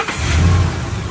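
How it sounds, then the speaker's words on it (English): Car engine cranking and catching during a battery charging test, a brief loud low rumble that rises and settles into idle, close with no talk. "Start engine."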